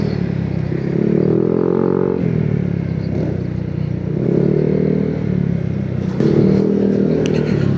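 A Honda PCX 160 scooter fitted with an aftermarket exhaust pipe, its engine note rising and falling in steady revving swells while riding at low speed, loud and close with some rattling clatter.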